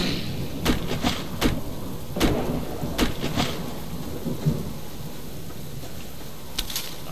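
Heavy rain hisses steadily outdoors while sharp thunder cracks and close claps strike several times in irregular bursts, loud against the constant downpour.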